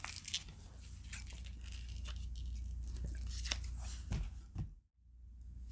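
Plastic packaging is cut away from a ten-ounce silver bar, giving close crinkling, tearing and snipping sounds in quiet surroundings. The noise stops abruptly near the end.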